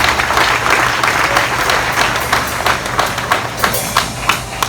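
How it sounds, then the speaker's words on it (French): A church congregation applauds steadily, dense clapping throughout with a few sharper, louder claps standing out toward the end. "Applaudis la gloire de Dieu pour ça"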